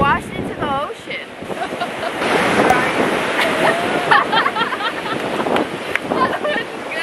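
Surf breaking on a chilly beach, a broad, loud roar of waves and wash with wind buffeting the microphone throughout, and a few faint voices mixed into the noise.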